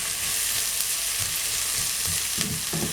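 Minced garlic sizzles steadily in a hot pan with onion as the base for a homemade bolognese sauce, a close, continuous frying hiss with faint stirring scrapes near the end.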